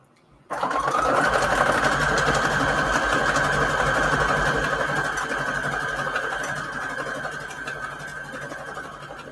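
A sewing machine stitching fabric onto index cards whirs up after a short silence and runs in one continuous, even burst of rapid needle chatter, easing slightly softer toward the end, with no voices.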